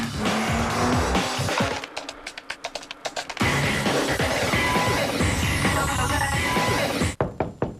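Nissan Altima with a 245-horsepower V6 engine in a TV ad: loud engine and road noise with a burst of tire squeal and skidding, broken by a short stretch of sharp knocks before the car sound returns.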